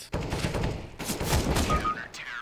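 Counter-Strike: GO gunfire comes in rapid bursts of sharp shots, fairly close and loud, and no one speaks.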